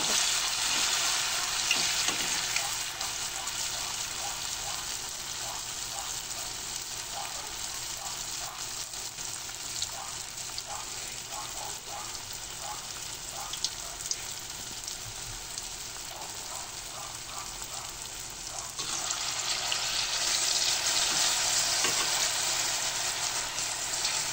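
Banana fritters frying in hot oil give a steady, dense sizzle and crackle that runs unbroken for about twenty-five seconds. It is close and even, swelling slightly louder near the end, with no speech.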